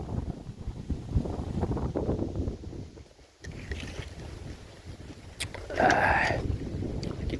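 Gusty wind outdoors in nature rushes and buffets the microphone in a continuous rough roar, rising and easing, with a brief lull and some faint rustling and knocks.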